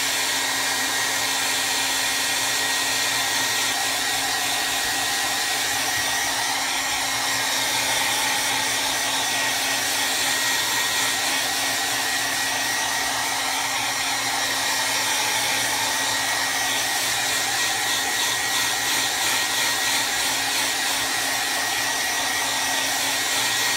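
A hair dryer blowing steadily on wet art journal paper, a loud continuous whirring roar with a steady motor hum that runs unbroken and close throughout, with no voices.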